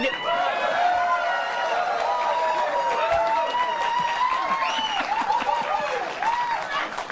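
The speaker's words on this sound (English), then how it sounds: "I didn't expect applause there" Studio audience applause on a late-night comedy talk show, a dense, loud and steady wash of clapping mixed with crowd voices that holds for several seconds.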